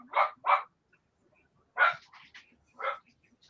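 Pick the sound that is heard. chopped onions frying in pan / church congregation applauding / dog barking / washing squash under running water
dog barking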